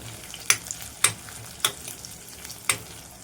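Green chillies fry in hot oil with a soft sizzle, broken by a few sharp, evenly spaced taps and scrapes from stirring in the pan.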